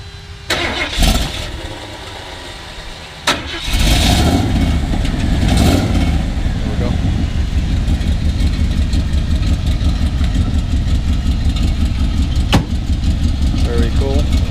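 A 1965 Ford Cobra replica with a 427 V8 cranks and catches after a couple of short attempts, then settles into a loud, steady, lumpy idle up close, with a brief blip partway through and people talking nearby.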